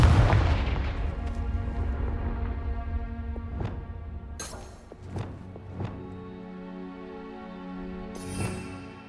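Confringo blast spell cast repeatedly in Hogwarts Legacy: several sharp, explosive bangs burst out one after another over a sustained tonal music bed, each hit short and punchy with quick decay.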